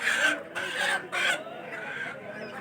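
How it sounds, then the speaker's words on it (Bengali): Chickens cluck and squawk in a dense, busy chorus at a large rural poultry market in Tangail district, with bursts of louder calls and indistinct crowd noise mixed in. "বিশাল বড় এক মুরগির হাট"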